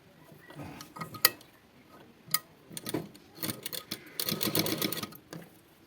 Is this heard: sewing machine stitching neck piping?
yes